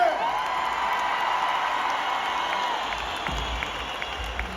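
A concert audience at a 60th-anniversary jubilee concert in a large sports and concert complex breaks into sustained, dense applause with scattered cheers and whoops. The roar holds steady, then eases slightly toward the end.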